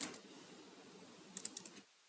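Typing code on a computer keyboard while writing a Java program: soft steady clicking, with a few sharper, louder keystrokes in a quick burst near the end, then it stops. No one talks.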